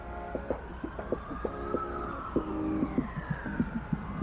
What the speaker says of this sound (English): That was a very interesting way of using the siren there.